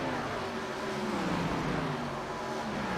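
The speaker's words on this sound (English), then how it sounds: "I do hear a couple cars still lifting going down into turn number 1" Race cars at an Iowa short-track Scrambler Series race lift off the throttle heading into turn one, a dense, continuous roar of several engines with falling pitch, steady and fairly loud, with no voices over it.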